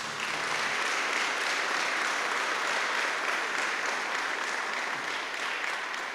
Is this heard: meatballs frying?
no